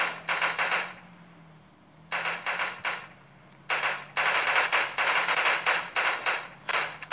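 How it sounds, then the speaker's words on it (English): Rapid automatic gunfire from the Giant.io game comes in several dense bursts of a second or more, separated by short quiet gaps. A low steady hum runs underneath. "somebody is shooting me"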